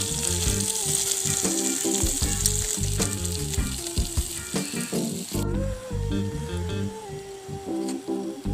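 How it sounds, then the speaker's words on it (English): Portobello mushrooms and vegetables sizzle steadily on a grill, a loud continuous crackle with occasional pops and clinks throughout, no talking. "we're getting some nice grill marks on these portobellos too"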